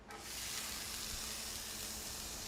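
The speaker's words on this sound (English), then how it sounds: "We start with a little avocado oil in the pan, our onions" Onions frying in avocado oil in a pan give off a steady, even sizzle that holds alone from start to finish.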